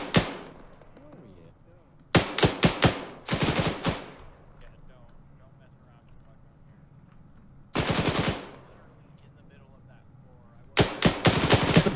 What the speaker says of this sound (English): Fire your weapon.